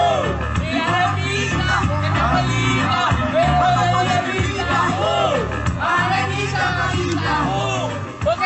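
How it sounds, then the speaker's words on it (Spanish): An audience at a play cheers and whoops steadily for the actors, many voices shouting and calling out together in an enthusiastic roar. "arriba los aplausos para los actores"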